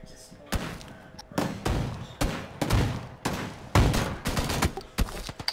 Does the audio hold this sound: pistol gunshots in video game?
yes